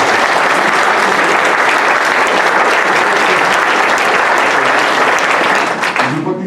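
Audience applause at a book launch in Mauritius, honouring the illustrator of the book's cover: sustained, loud, dense clapping from a crowd that holds steady for several seconds before starting to thin at the end.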